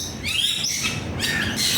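Several Bali mynas call in a zoological garden in Hong Kong, bright repeated chirps and whistled notes layered over a steady low background hum, fairly close and continuous.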